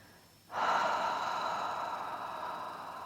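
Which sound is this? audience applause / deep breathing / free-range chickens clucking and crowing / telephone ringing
deep breathing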